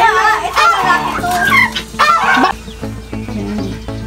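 Noisy geese honking and squawking close by on a rural property in Pangasinan, loud overlapping calls with cackling fowl sounds mixed in, while people talk nearby.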